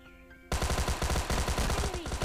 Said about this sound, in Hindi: तभी मुझको ऊपर से एक बॉट फायर देता है